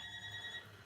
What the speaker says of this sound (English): Sorry about my phone ringing in the background.